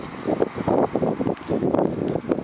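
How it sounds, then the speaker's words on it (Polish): Wind buffets the microphone in steady low gusts near a beach pier at Bethany Beach, Delaware, a rough rumbling roar that swells and dips throughout with no other clear sounds. "Trochę wiatr wieje, to będzie hałasować."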